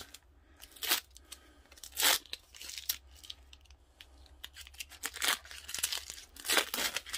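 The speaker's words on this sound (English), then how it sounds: "now for the fun part, peeling off the tape to see what we've got" Masking tape peeled off freshly painted custom leopard-print sneakers, heard as a series of close, crisp tearing and crinkling rips in irregular bursts, some long and some short, against a quiet background.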